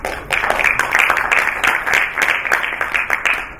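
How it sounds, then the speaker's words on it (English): Applause from an evening audience at a KFUPM entrepreneurship talk, a dense, steady roar of many hands clapping that fills the room and stays loud throughout. "So please, a round of applause to everybody,"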